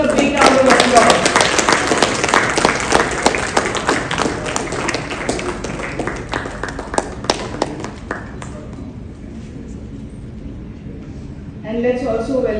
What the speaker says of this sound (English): Let's welcome them all with a big round of applause.